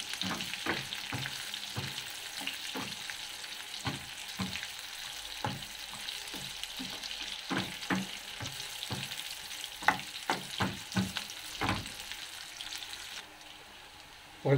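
Garlic and pork sizzle steadily in a hot pan for ginisang monggo, broken by frequent sharp scrapes and clacks of stirring, close and fairly loud, with no talking.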